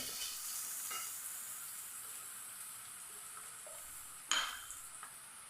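Chopped onions and curry leaves sautéing in a pan, a steady soft sizzle with occasional stirring scrapes and one sharper clink of a utensil against the pan, no voices.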